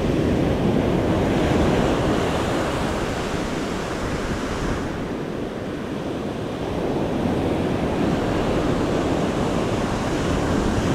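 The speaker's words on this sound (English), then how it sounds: "Breaking nice out here for the surfers." Ocean surf breaks steadily at Jensen Beach, Florida, around sunrise, giving a continuous loud wash of waves mixed with wind buffeting the microphone, with no voices.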